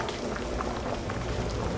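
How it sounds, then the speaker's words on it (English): Water is added to a simmering Persian cooking sauce in a pot, producing a loud, continuous sizzling and bubbling hiss that runs steadily throughout with no one speaking. "I'm going to add some water."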